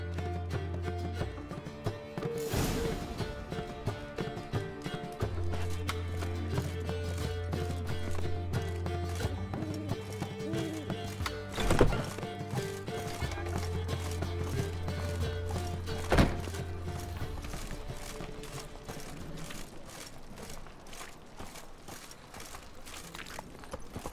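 Geralt's horse Roach runs in The Witcher 3 video game, rhythmic hoof clip-clops continuing over a low droning game score, with a few louder thuds along the way.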